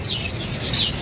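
Crested birds chirp and call in short high-pitched bursts, steady and fairly close, with no voices.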